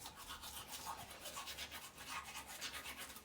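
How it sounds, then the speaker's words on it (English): A toothbrush scrubs teeth in steady, rapid back-and-forth strokes, a soft close bristly rasp pulsing continuously with no speech. "but I'm gonna actually brush my teeth."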